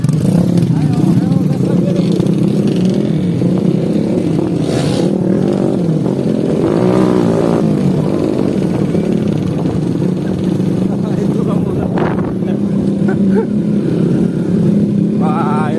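A motorcycle engine drones steadily and loudly along a muddy rural trail in Pagar Dewa, West Lampung, its revving rising and falling under frequent shouted talk from riders nearby.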